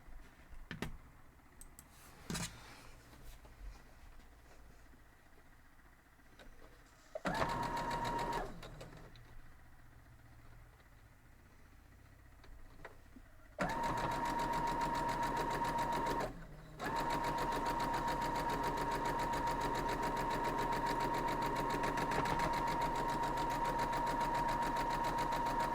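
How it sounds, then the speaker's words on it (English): A sewing machine stitches a quilt block in short runs at first, then a long steady whir of running stitches with one brief pause, loud and close, alone without voices. "Let's go sew them up."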